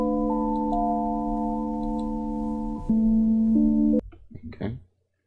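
Steady electronic sine tones hold at fixed pitches, stepping down to new notes a few times, then cut off into brief clattering noise.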